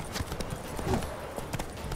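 Horse hooves clip-clop at a steady trot in The Witcher 3 game audio, close and fairly soft throughout, with no talk.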